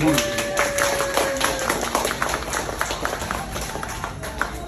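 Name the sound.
audience clapping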